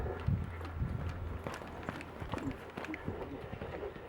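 A horse trotting under a rider, hooves clip-clopping in a steady two-beat rhythm on firm ground at close range, with rustling tack and faint background noise.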